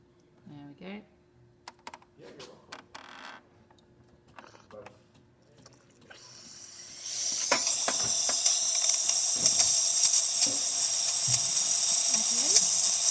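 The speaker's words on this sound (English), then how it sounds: "Okay, now we'll just do a bit of steam." A DeLonghi espresso machine's steam wand lets out a loud, steady hiss that begins partway through and continues to the end, after quieter clicks and handling sounds and a person talking.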